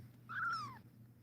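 A single close kitten meow, rising and then falling over about half a second, heard alone over a quiet low hum.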